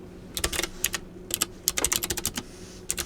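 Keys clatter on a computer keyboard in quick, irregular bursts of close, crisp taps with short pauses between words, quiet and alone.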